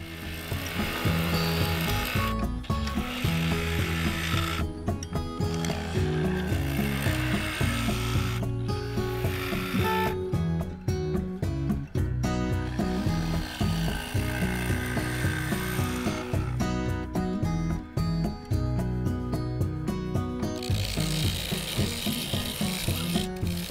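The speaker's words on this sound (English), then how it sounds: "For this, I used the 1/2" detail spindle gouge." Lathe turning of a yew bowl, its outside base shaped with a half-inch detail spindle gouge, giving a loud continuous grinding, rubbing cut with a steady mechanical whir throughout, with short breaks as the tool lifts away and no voices.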